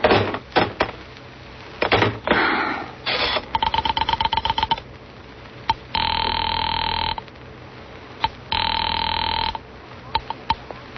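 A rotary telephone in an old-time radio drama: clicking dial pulses in quick sequence, then two long loud bursts of an electric ring separated by a pause, with a few knocks and bumps around them.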